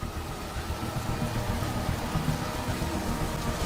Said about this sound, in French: La pluie tombait sans arrêt et de plus en plus fort.